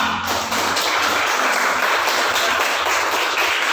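A classroom of students applauds a classmate, a steady, dense patter of many hands clapping that fills the room at an even level from start to finish.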